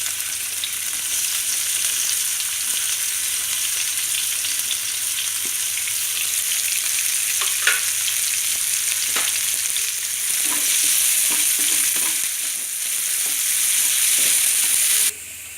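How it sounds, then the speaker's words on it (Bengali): Sliced onions sizzle in hot oil for mustard hilsa, a steady close frying hiss with occasional scraping stir strokes and a few light knocks, no talk. "পেঁয়াজ দিচ্ছি।"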